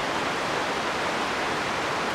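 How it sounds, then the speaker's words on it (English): A waterfall beside a small river in Juneau, Alaska, heard up close as a dense, steady roar of rushing water, loud and unbroken throughout. "there's a gorgeous waterfall that we haven't looked at yet, but I can see it"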